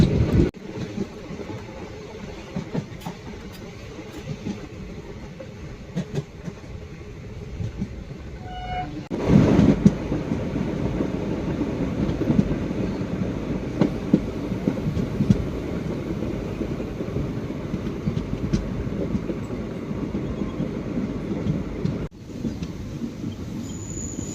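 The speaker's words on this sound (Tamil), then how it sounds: "ஸோ நாகர்கோவில் கோயம்புத்தூர் எக்ஸ்பிரஸ் பார்த்தீங்கன்னா இப்போ கிராஸ் ஆகும்." The Nagercoil–Coimbatore Express crosses on a rail line, heard from aboard a moving train as a continuous rumble with wind noise that swells partway through, then a sharp change near the end.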